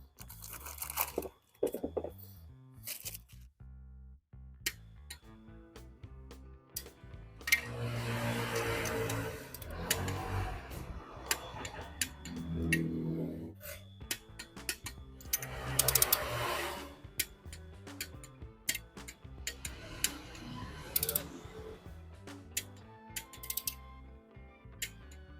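Torque wrench tightening cylinder head bolts on a BMW M43 engine from an E30, with clicking ratchet and crunching mechanical sounds in irregular bursts, close and moderately loud, no talking.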